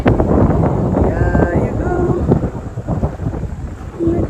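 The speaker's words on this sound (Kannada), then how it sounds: "ತುಂಬ ಚೆನ್ನಾಗಿ ಗಾಳಿ ಬರ್ತಿದೆ." Wind gusts across the microphone beside a lake at a boating spot, a loud, blustery rumble that fluctuates throughout, with a few faint tonal sounds mixed in.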